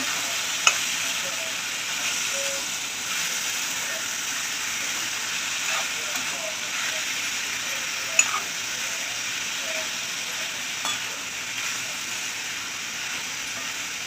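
Val papdi bean pods sizzle steadily in a hot pan for a dry bhaji, a continuous close frying hiss with occasional soft clicks and scrapes of a spoon stirring.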